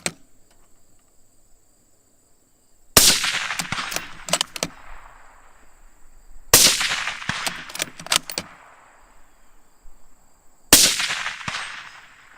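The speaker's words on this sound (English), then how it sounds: "See how quick I can get 3 shots off." Three rifle shots fired at long range at steel targets outdoors, each a sharp loud crack followed by a rattling metallic clatter, spaced a few seconds apart, with faint insects chirping in the quiet gaps.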